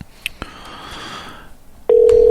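A telephone being dialed gives a few sharp clicks, then a loud, steady call tone starts and holds.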